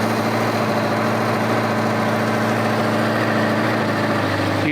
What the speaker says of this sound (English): do a little bit of a blip to the throttle to kind of even everything out